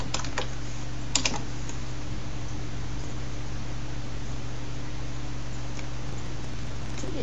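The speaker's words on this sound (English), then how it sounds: "I just go and type in Windows XP" Typing on a computer keyboard, heard as a short burst of quiet key clicks near the start and a few scattered taps later, faint over steady background hiss.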